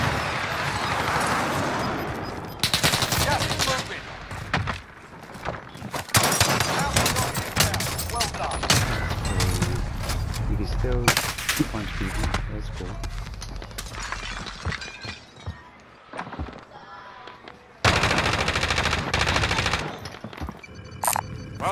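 Galil assault rifle firing in a video game, delivering loud repeated bursts and rapid automatic volleys with brief pauses between them, with some talk mixed in.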